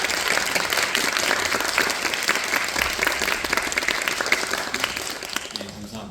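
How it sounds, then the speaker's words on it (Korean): A theatre audience applauds the actors after a play at a large performing arts theatre, dense sustained clapping from a big crowd, loud and even throughout. "저희 배우분들께 다시 한 번만 박수 부탁드리겠습니다."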